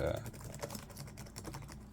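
Rapid clicking keystrokes on a replacement keyboard fitted to a Lenovo Ideapad Y500 gaming laptop, a quick close-up patter of key presses.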